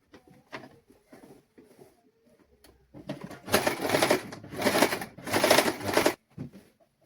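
Sewing machine stitching a children's sun suit, soft handling and scattered taps first, then three bursts of rapid, loud mechanical stitching with brief pauses between, close up, no talking.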